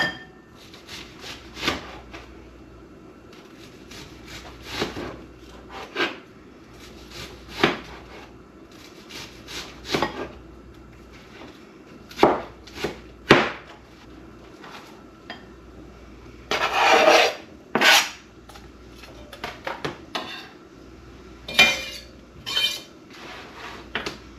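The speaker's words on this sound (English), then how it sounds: "So we're going to chop up our onions, and they don't have to be terribly fine." Onions chopped with a knife on a wooden board, heard as irregular sharp knocks, some single and some in quick bursts, close and loud against a quiet background.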